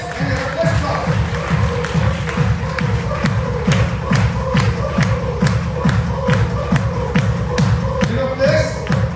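Loud, sustained audience clapping in a steady rhythmic beat with cheering, at a product training program, filling the room for several seconds.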